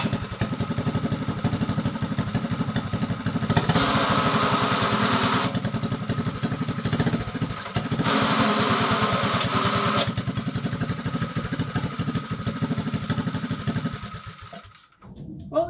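A Mega Moto mini bike engine fitted with an RLV muffler and header wrap runs steadily at close range, a continuous buzzing putter with two brief revs swelling louder, then cutting off near the end.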